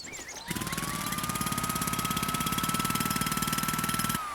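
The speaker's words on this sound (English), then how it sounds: "Let's try the jackhammer." A jackhammer breaks apart a building in the Demolish & Build 3 video game, a fast rapid-fire rattle that starts abruptly, hammers on steadily for about four seconds and then stops.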